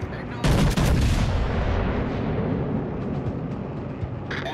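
Naval gunfire in the warship video game World of Warships: Legends: a loud, heavy cannon blast booms up front, then rolls into a long rumbling decay, and another shot starts just at the end.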